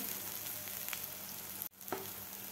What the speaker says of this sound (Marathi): व्यवस्थित आपल्याला हे मसाला परतून घ्यायचा आहे.